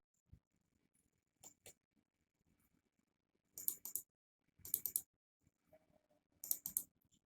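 Computer keyboard keys tapped while drawing in AutoCAD, a few quiet isolated clicks followed by short clustered bursts of typing, close and soft in an otherwise silent room.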